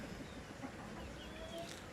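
A Burmese-type fighting rooster with a big, well-built frame gives soft, faint clucks over a quiet farmyard background, brief and low in level, with no talking.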